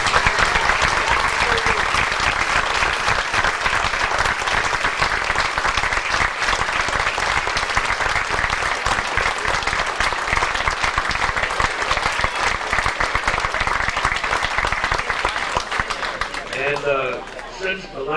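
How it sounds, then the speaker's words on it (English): Banquet crowd at a high school sports hall of fame dinner gives inductees a long, loud round of applause, dense and steady throughout before tapering off, with a voice emerging at the end. "Let's give a big round of applause."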